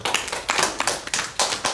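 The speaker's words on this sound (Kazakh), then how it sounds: "Шапалақтан жүрейік." An audience claps at a book launch for a Kazakh historical novel, sharp irregular claps close by, a short patter with no voices.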